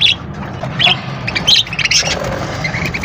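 A parrot gives sharp, scratchy squawks in several short bursts, fairly close, over a low background rumble.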